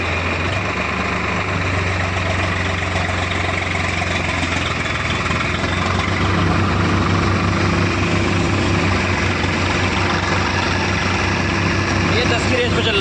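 A Swaraj 855 tractor runs steadily with a loud, close, continuous heavy diesel drone and no break or change throughout.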